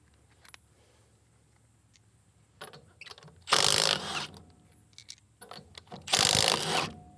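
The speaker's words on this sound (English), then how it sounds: "the stubby M12 has plenty of torque for lug nuts" A stubby Milwaukee M12 impact wrench on the lug nuts of a Japanese mini truck, with two loud, close hammering bursts of a few seconds each amid quieter clicks and handling noises.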